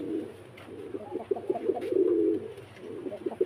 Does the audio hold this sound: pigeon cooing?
yes